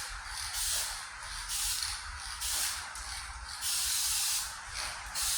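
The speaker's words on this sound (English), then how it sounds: "start off the panel, test spray it" A spray gun applies paint in test passes on a 1998 Ford Ranger tailgate panel, giving repeated bursts of close, steady hiss that swell and ease as each pass starts and stops.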